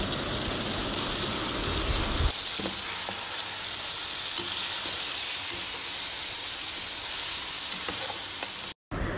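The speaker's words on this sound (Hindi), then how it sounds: "अब इसके अंदर मैं टू टेबल स्पून लहसुन अदरक का पेस्ट शामिल करूँगी और इसको मज़ीद दो से तीन मिनट के लिए फ्राई कर लूँगी" Chicken pieces fry with ginger garlic paste in a pan for black pepper chicken, giving a steady crackling sizzle with a few scraping stirs, close and continuous with no talking.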